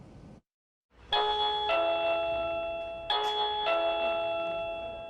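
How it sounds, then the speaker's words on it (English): A motel front-desk doorbell at the Southern Comfort Inn rings twice after a brief silence, each ring a clear two-tone electronic chime with sustained ringing tones and no voices. "The doorbell at the Southern Comfort Inn is the sound of someone wanting to spend the night, a week, or even years."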